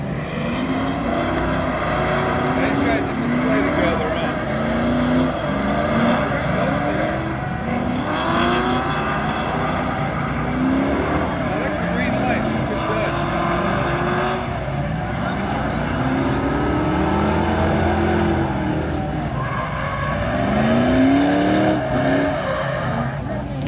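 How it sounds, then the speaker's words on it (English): Drift cars slide and rev at Colorado National Speedway, engines wailing and rising and falling continuously with tire noise, heard from a distance under a steady crowd wash and commentary. "Look at that, drifting together."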